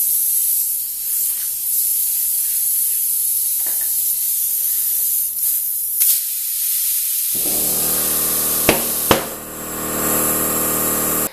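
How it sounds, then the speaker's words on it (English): A motorcycle tire being inflated on its rim, a loud steady air hiss that gives way to two sharp pops close together as the bead sets, then the hissing continues. "you heard that double pop. That was the bead setting."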